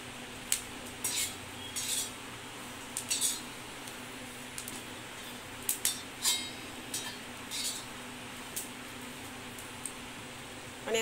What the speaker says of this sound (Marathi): आता यामध्ये लसूण देखील भाजून घेऊया